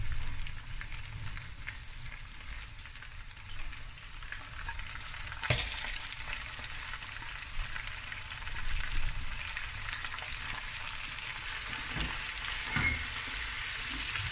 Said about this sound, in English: The oxtail has fried nicely, and I'm going to add the rest of my ingredients.